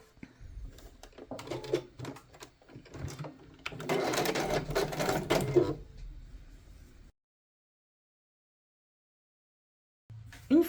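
A sewing machine stitches a short diagonal with a back-and-forth pass on a shirt placket, running in quick bursts and a longer steady whir before stopping, then briefly restarting.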